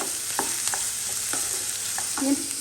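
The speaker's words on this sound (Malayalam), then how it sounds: "രണ്ടിലെല്ലാം കൂടി നന്നായിട്ട് ഇളക്കിയിട്ടാണ് അടുത്ത സാധനങ്ങൾ ഇട്ട് കൊടുക്കണം അതൊരു നന്നായിട്ടൊന്ന് വഴണ്ടി വരട്ടെ" Ingredients for a chicken curry are stirred and sautéed in hot oil in a pan, with a steady sizzle under repeated scraping clinks of the spoon against the pan.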